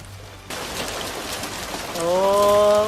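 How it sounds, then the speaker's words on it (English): Hail and rain pelting the ground in daylight during a severe hailstorm, a dense continuous hiss of impacts that starts abruptly and grows louder, with a sustained tonal whine rising over it near the end. "Hailstorm blankets the entire area in daylight as rain and ice combine into a dangerous weather event."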